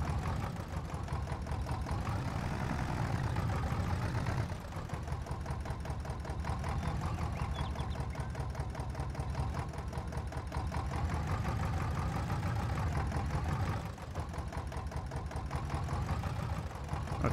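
A tractor engine idles steadily in Farming Simulator 22, a continuous mid-pitched mechanical drone with a faint rhythmic chug, holding nearly unchanged throughout with no talking.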